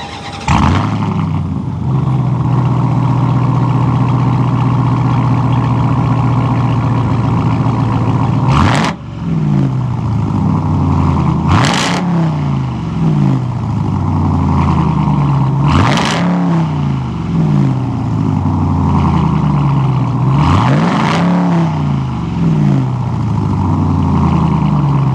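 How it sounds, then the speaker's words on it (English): Hellcat V8 in a Ram TRX pickup, warmed up, idling with a deep steady rumble and blipped through four sharp, loud revs spaced a few seconds apart, each flaring and settling back to idle, heard up close with no talk. "heard a Hellcat engine going down the road, let's go see what it sounds like"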